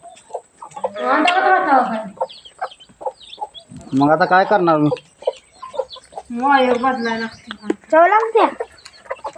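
Chickens cluck and squawk in bursts close by, interspersed with a person talking between the calls.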